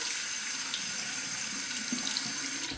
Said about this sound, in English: Let's get our synthetic brush under the warm water.